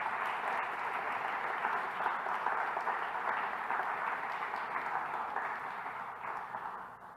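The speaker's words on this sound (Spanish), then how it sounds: "Dale un fuerte aplauso al Señor en esta mañana." Congregation clapping in a church service, a sustained wash of applause that holds steady and then slowly fades out, with no one speaking.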